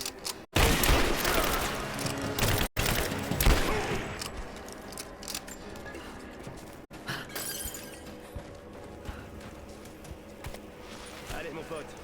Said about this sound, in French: On nous tire dessus!